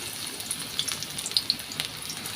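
Chopped garlic and onion fry in hot oil in a pan, giving a steady soft sizzle with scattered pops and crackles, fairly quiet and without talk.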